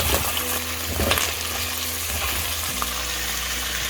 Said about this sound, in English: quickly add in the onion because it's going to splatter everywhere